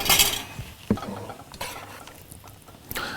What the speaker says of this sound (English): I'm going to use my tongs and we're just going to marinate these up. So we're just going to stir these around.